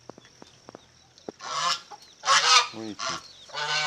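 Black hen with five small chicks at a small farm, heard as loud bursts of clucking and squawking calls after a few quiet clicks, close to the microphone, with a brief spoken word.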